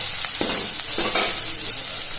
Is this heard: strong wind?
no